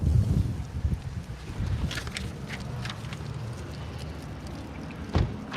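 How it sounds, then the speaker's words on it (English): Wind gusts buffet a microphone outdoors, rumbling heavily at the start and easing into steady blustery noise, with faint rustles and knocks throughout. "It is windy."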